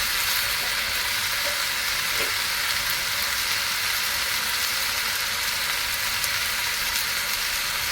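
Mint leaves sizzle and crackle steadily in a hot pan while being stirred for a chutney, a continuous close frying hiss with no talking.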